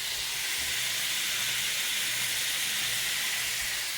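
Garlic sizzling in a hot pan of Thai-style pork stir-fry, a steady, bright hiss with no pauses, close and continuous.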